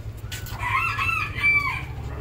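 Chickens clucking with a rooster crowing close by, bright calls rising and falling over a low steady hum.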